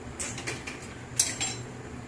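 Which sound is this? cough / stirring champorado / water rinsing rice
stirring champorado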